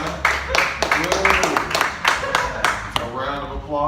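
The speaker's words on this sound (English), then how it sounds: "A round of applause" A stand-up comedy audience bursts into scattered clapping, sharp uneven claps rising and falling over a few seconds, mixed with laughter and chatter and ending with a speaking voice.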